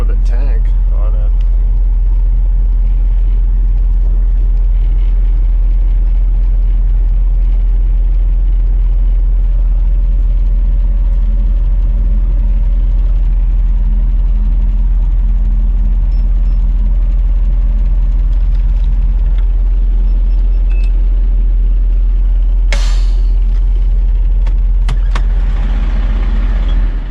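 A heavy truck with an automatic transmission and a tank on board runs steadily with a low engine drone throughout, loud and close, with brief shifts in tone under occasional talk.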